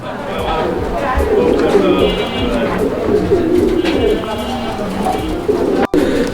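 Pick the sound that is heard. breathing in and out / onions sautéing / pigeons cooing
pigeons cooing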